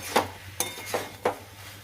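A spoon stirs a pumpkin and bean curry in a pan, making four sharp metallic scrapes and clinks spaced apart, close and fairly quiet over a low hum.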